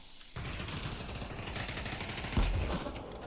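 Gunshots during a competitive Pavlov VR match, heard as a fairly faint, muffled spread of distant shots, with one sharper, louder crack near the end.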